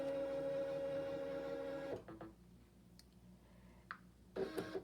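A home embroidery machine stitching out a clover design hums steadily with a rapid, even mechanical whir for about two seconds, then stops, leaving a quiet room with a few faint clicks before a short burst of whirring resumes.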